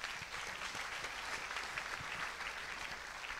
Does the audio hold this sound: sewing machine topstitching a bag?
no